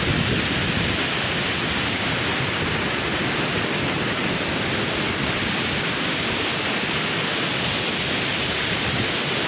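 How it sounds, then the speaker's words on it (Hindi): Fast water rushes beneath a bridge in a steady, dense roar that stays loud and unbroken from start to finish, with no voices over it. "पानी बहुत तेज़ी से निकल रहा है यहाँ से"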